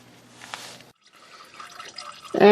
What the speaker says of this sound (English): at this point we're going to let this drain